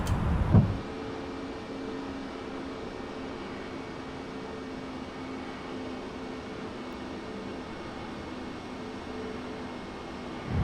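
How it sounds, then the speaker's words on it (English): Landing gear of an Airbus A350 lowering in Microsoft Flight Simulator, a steady mechanical whir and airy rumble that holds evenly for about ten seconds without a break. "Still, gears coming down."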